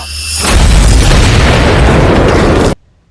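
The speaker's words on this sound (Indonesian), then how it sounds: "peluru ini akan meledak tanpa harus menembus sasaran, Brandon melepaskan peluru itu" A loud, sustained explosive roar swells after a brief lead-in, then cuts off sharply into near silence.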